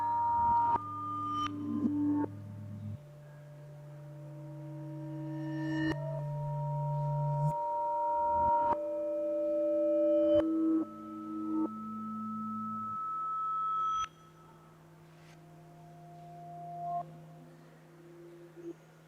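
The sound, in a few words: gamelan sounds played in reverse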